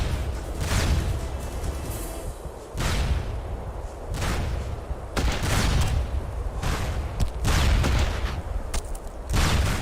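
Heavy gunfire in SOCOM II, with loud bursts of shots and booms coming in repeated waves, close and dense, separated by brief lulls.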